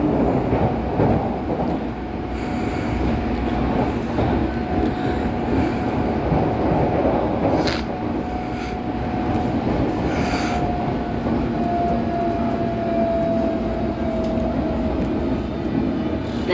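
A London Underground S Stock train runs steadily from inside the carriage, a continuous loud rumble with a thin motor whine and brief clanks throughout.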